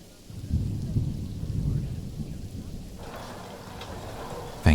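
Rain falls steadily with low rolling thunder in the Planet Zoo video game, a deep rumble swelling early then easing under the soft hiss of rainfall, ending with a sudden louder burst.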